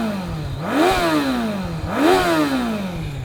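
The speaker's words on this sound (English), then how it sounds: "Let's just have a little listen to that exhaust one last time." A 2002 Honda CBR1100XX Super Blackbird motorcycle exhaust revs twice at close range. Each blip climbs sharply, then drops back toward idle.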